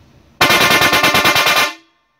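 A loud, blaring dual-tone car horn combining a thin high tone and a deep low tone sounds once for about a second with a rapid pulsing buzz, then stops abruptly, leaving a short fading tail.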